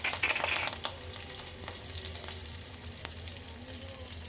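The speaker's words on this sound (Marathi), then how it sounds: "आपलं तेल छान असं तापलेलं आहे। आता आपण त्यात लसूण घालून घेऊया ठेचलेलं। आणि आपण हे 7 ते 8 कढीपत्त्याची पाने टाकून घेणार आहोत।" Crushed garlic and curry leaves sizzle steadily in hot oil, a close, continuous crackle with scattered sharper pops and stirring clicks throughout, with no voices.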